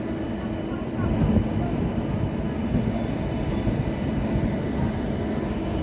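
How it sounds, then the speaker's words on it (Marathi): The Kakinada Port–Sainagar Shirdi Express, hauled by a Lalaguda shed WAP-7 electric locomotive, gives a steady, close rumble and rattle of a moving train, a continuous low roar throughout. "लालागुडा शेडचा डब्ल्यू ए पी सेवनसोबत मित्रांनो काकीनाडा पोर्ट साईनगर शिर्डी एक्सप्रेस"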